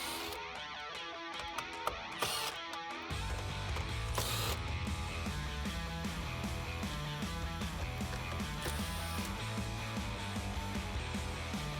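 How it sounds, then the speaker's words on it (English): A 7mm socket ratchet backing out the screws holding the head unit of a Jeep Wrangler JL dashboard, steady close clicking ratchet strokes after a few faint taps, quiet and alone. "I'm going to take that same 7mm socket and remove them on each corner."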